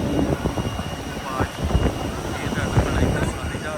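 A loud airplane engine roars continuously in the background while people talk over it.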